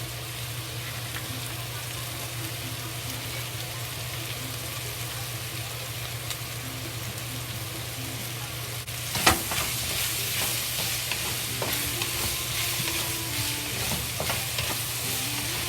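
Pork slices and yellow squash stir-fry with oyster sauce in a pot, giving a steady loud sizzle with a sharp clatter of stirring partway through, then continued scraping and frying without speech.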